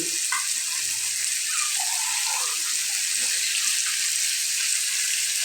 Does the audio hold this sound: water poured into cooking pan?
yes